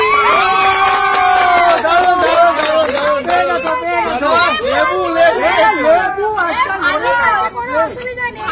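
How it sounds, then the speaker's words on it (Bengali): Loud, close cheering and excited shouting from a crowd of young voices during a number-guessing game, with overlapping yells rising and falling throughout and no clear clapping standing out. "জোরে হাততালি।"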